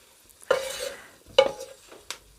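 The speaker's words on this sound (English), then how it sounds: "Give it a stir in here." Tinned potatoes are stirred in an air fryer basket, with three close, scraping stirs that come in short bursts with quiet gaps between them.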